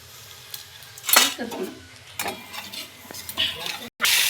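A spoon scrapes and clanks against a pan in a few bursts while spice paste for egg curry fries in oil, with a soft sizzle underneath and brief clinks near the end.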